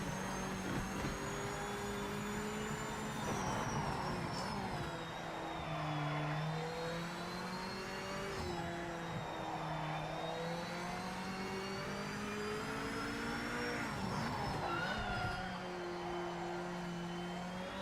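Race car engines from the Project Motor Racing video game drone and rev continuously, pitch rising and falling through gear changes, with several cars layered at steady loudness and no talk.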